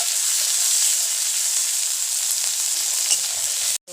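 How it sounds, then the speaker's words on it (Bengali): Small fish and raw tomatoes sizzle steadily in oil as they are sautéed in a pan, a continuous close frying hiss with faint stirring near the end and no talk. "কাঁচা টমেটো দিয়ে এবার এটাকে মা কষে নেবে"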